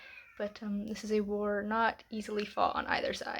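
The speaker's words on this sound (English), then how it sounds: "I apologize for my cat screaming in the background" A cat yowls and meows loudly in long wavering cries beneath someone speaking, the howls rising and falling through several seconds of indoor talk.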